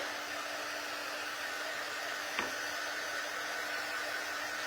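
A heat tool blows continuously to dry craft items, a steady, even whoosh of air that holds throughout with one brief bump midway.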